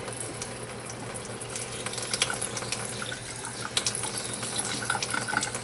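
Water from a tap pours into a plastic jug while black cherry wine is being made, a soft, continuous trickle with light splashes, close by and fairly quiet.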